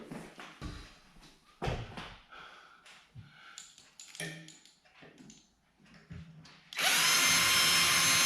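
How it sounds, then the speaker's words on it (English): A power drill drives a screw into a wooden floor joist in short, stuttering bursts with pauses between, then a sustained loud whine at the end; faint breathing-like noises sit in the gaps. "Now, I've got to put another screw in."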